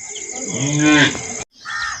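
Cattle in a forest village in Karnataka give a long, loud, close moo that breaks off and then starts again briefly.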